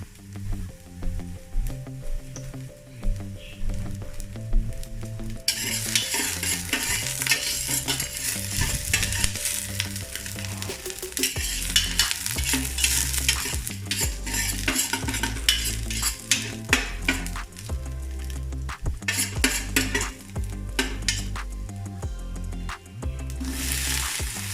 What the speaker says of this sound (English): So just start frying the garlic and the chilies in that small amount of oil.